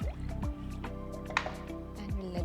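Dal being stirred with water and salt in a cooking pot, giving soft wet squishing and dripping sounds in a steady rhythm, close up, over a continuous low background hum.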